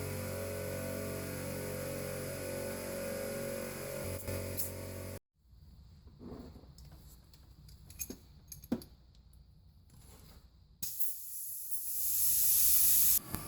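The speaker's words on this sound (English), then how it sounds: "The first one is taking air." Air hisses into a flat tire on a Ford F100 that has sat for 29 years, a steady close hiss lasting about five seconds before stopping, followed by quiet clicks and faint handling noises and a louder rush of air near the end.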